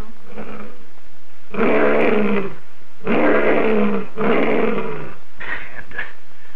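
Lion roars from an old silent-era slapstick comedy short, several loud rough bursts in a row with brief gaps between them, alone with no talk.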